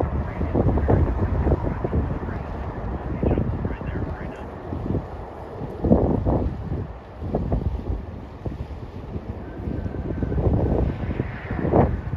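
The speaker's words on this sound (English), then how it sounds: "Oh, it got windy." Gusty wind buffets the microphone in loud, uneven bursts while plane spotting outdoors, with a low rumbling roar rising and falling throughout.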